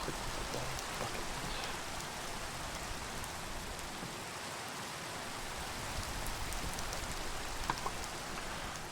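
Steady rain falls in the Minecraft FTB Interactions modpack, an even, continuous hiss of drops with no voices, at a soft, constant level throughout.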